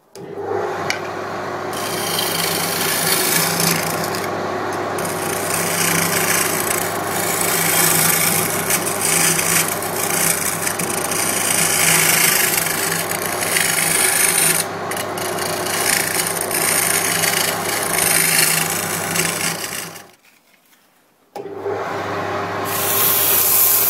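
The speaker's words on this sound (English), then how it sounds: "having the round nose scraper allows you to get the curve much nicer" A round nose scraper cutting a burr elm bowl on a lathe gives a steady, loud, close rasping scrape that runs unbroken for about twenty seconds, drops out briefly, then resumes, with no voices.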